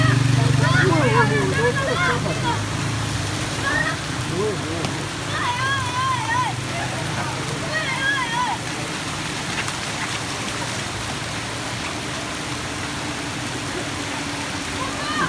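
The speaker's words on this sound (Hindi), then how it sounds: "बारिश तेज़ हो रही है" Heavy rain roars steadily over flooding water on a street, a thick continuous wash with people talking throughout, louder at first and then settling.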